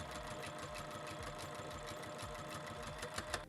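A sewing machine stitches a fabric harness in a fast, steady mechanical rattle that keeps going without pause, with no voices over it.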